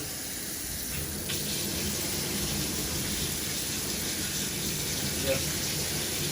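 Water runs steadily from an opened tap while household drinking-water pipes are flushed, a constant hissing gush that fills the scene and continues evenly throughout.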